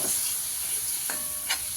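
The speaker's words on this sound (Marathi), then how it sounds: "आता थोडंसं हलवून घेऊया" Egg curry masala with coconut frying in a pan, a steady hiss of sizzling oil with a couple of quick stirring scrapes.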